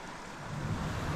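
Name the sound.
mountain creek water flowing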